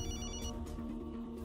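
A telephone rings with a bright electronic ringtone in a dubbed action film scene; a steady repeating tonal ring plays alone, fairly clear, with no talking over it.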